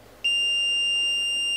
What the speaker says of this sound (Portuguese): vai soar o bip